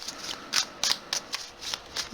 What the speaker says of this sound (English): if you want to skip past the shuffling, feel free